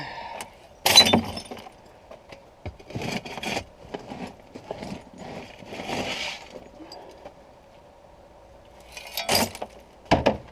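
Shards of broken glass handled and scraped inside an abandoned 1968 Buick Skylark, sharp crunching clinks and tinkles in scattered bursts with quieter rustling between, close to the listener.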